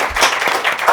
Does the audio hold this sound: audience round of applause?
yes